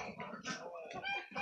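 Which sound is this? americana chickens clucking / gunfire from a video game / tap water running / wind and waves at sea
americana chickens clucking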